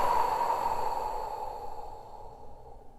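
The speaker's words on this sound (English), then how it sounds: "Let's make a deep inhale and" A single deep, slow breath drawn in and released during a Yin yoga session, a soft airy rush that starts strong and gradually fades, close and alone.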